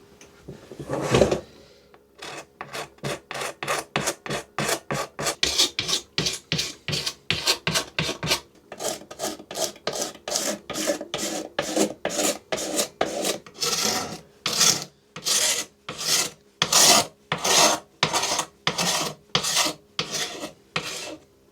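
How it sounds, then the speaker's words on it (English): A utility knife blade scrapes old finish off a wooden piece in a long series of quick, rhythmic rasping strokes, close and fairly loud, with no voices. "I'm going to try and scrape off this finish just with a utility knife blade"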